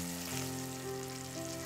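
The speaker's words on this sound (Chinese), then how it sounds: "锅非常热的时候下三文鱼" Salmon frying in a very hot oiled pan, seasoned with salt and black pepper, gives a steady close sizzle that runs unbroken with no talking.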